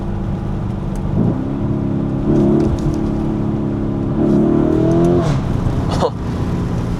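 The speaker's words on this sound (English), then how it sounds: "It cracks when you shift up. I love those upshifts." A car engine revs up through several gears, with sharp crackles and pops from the exhaust at each shift, loud and close.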